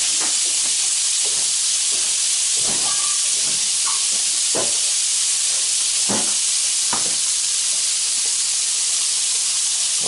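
A burger patty with fried onions cooks on a grill, giving a steady broadband sizzle and hiss throughout, with occasional sharper pops and crackles standing out above the constant frying noise.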